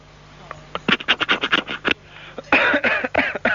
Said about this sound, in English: He just phoned up to cough, just to clear his throat.